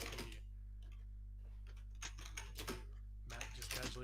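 Fast, uneven typing on a computer keyboard, close and fairly loud, in several quick flurries of clicking keys over a constant low hum.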